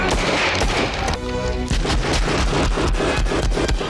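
Gunshots fired into a table in the film Die Hard, a loud rapid volley of sharp shots and cracking wood, a short pause and then a steady string of repeated blasts continuing to the end.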